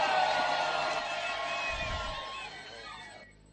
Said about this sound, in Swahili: Tumshangilie tena kwa makofi na vigelegele Mungu wetu